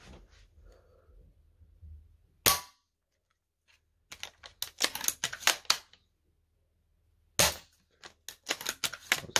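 A VSR-10 airsoft sniper rifle firing 0.20 g BBs at just under 500 FPS into mesh goggles, giving a sharp crack followed by bursts of rattling impacts and clatter, then a second crack with more rapid clicking hits.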